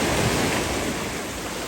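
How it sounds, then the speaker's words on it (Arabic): Sea waves washing onto a beach, a steady broadband surf roar with some wind noise on the microphone, fairly loud and close, no talking. "طبعا جينا البحر"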